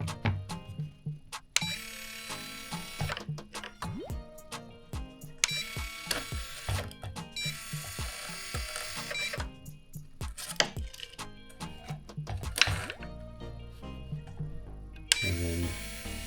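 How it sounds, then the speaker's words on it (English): Bursts of rapid mechanical clicking and ratcheting as the winch line is pulled out on an RGT EX86160 Land Cruiser 79 RC car, coming in several separate pulls with quieter gaps between them, close up. "I believe this is something to do with the winch. So you get to pull it out."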